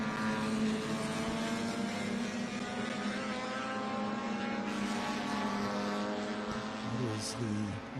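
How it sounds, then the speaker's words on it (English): Vintage race car at Lime Rock (CT) SVRA event droning as it enters the pit lane, a steady engine hum with a faint downshift burble near the end, heard at a moderate distance. "We have a car coming into the pit lane."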